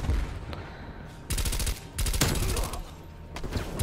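Rapid bursts of MP5 submachine gun fire in Call of Duty Black Ops Cold War multiplayer, short repeated volleys, loud and close, with dense background game noise between bursts.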